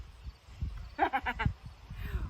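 A person imitates a goat's bleat in a silly character voice, a quick run of four or five wavering, vibrato-like pulses heard close over a faint rumbling background.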